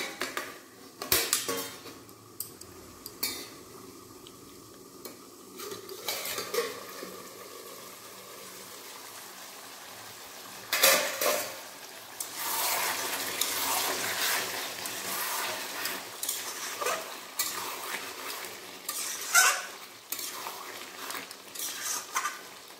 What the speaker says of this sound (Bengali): ঢাকা না দিয়ে ভালোভাবে কষিয়ে নেব মাংসটা।